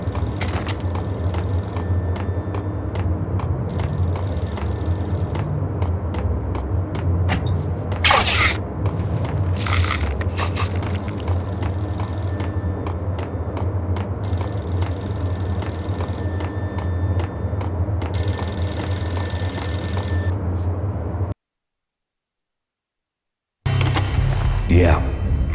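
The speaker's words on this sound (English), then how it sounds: "The payphone started to ring." A payphone rings in the Max Payne video game on PS2, with repeated ring bursts over a steady low hum and ambient game noise, followed by a brief silence and a short resumption of sound.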